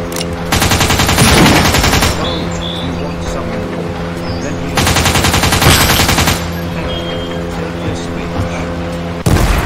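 Bursts of rapid automatic gunfire rattle loudly in two long volleys in a video game, separated by a quieter stretch of steady engine-like droning.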